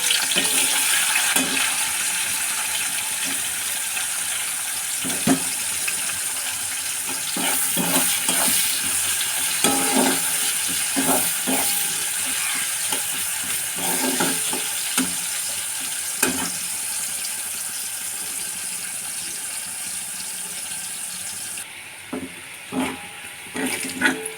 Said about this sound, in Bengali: এবার তেল গরম হয়ে গেছে, এবার দেবো পেঁয়াজগুলো।